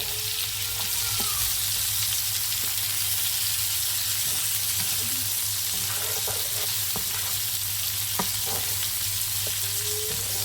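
Toulouse sausages and shallots fry in a pan in a steady, loud sizzle with continuous crackling and spitting, plus a few faint utensil taps and scrapes as the food is stirred.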